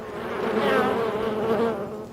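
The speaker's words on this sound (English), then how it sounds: "because of the effect it had on Pat Wagner, the family is anxious to share their bees with anyone who asks, free of charge." Honeybees buzz steadily and close for about two seconds, a dense droning hum that swells slightly in the middle and holds without pause.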